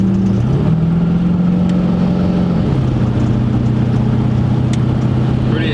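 A 1968 Chevy C10 shop truck with a 333 hp crate engine accelerates hard onto the highway. The engine drones loud and steady close by, its pitch climbing and then dropping as it shifts gear, with no talk.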